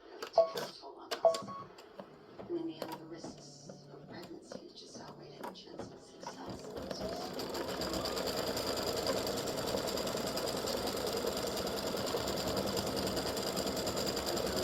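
An embroidery machine stitching a gnome's hat in freestanding lace. Scattered clicks and beeps come first, then a steady, fast mechanical whirr of stitching runs on for the rest of the clip.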